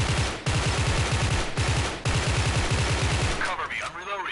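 Rapid automatic bursts of M16A3 rifle fire in the video game Special Force 2, loud and close, in several long strings separated by brief pauses, ending in a short ringing tail.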